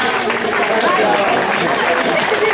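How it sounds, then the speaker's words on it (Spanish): A crowd at a village popular road race applauds for the veteran-category runners, with loud, close clapping running throughout under an announcer's voice over a PA. "Un aplauso fuerte, esa categoría veterana"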